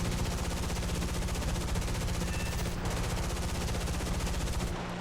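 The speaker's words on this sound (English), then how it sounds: "now we got a shit ton of 50 cals to throw at this guy" Heavy .50 caliber machine guns fire from an American bomber in War Thunder. A loud, continuous rapid burst of gunfire fills the whole stretch under steady engine drone, then breaks off at the very end.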